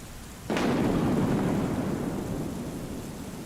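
A thunderstorm breaks with a sudden loud thunderclap that swells into a long, heavy rumble, then slowly fades under a steady wash of rain noise; no voices.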